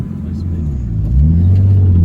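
Nissan R32 on its first test drive after a rear subframe bush replacement, a steady low engine and road rumble heard from inside, rising slightly in the second half.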